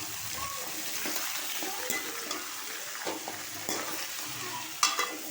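Chopped snake gourd and pumpkin being stirred and sautéed in a pan, with a soft continuous sizzle broken by scraping and clinking of a spoon against the pan, fairly close and moderately quiet.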